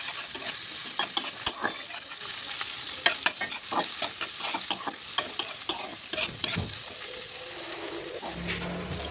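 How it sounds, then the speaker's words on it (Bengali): Chopped ginger and onion sizzle steadily in hot oil while a spoon scrapes and stirs the pan in frequent sharp clacks, close and alone with no voices. "আদা কুচি ভাজা হয়ে গেলে পেঁয়াজ কুচিটা দিয়ে দিলাম।"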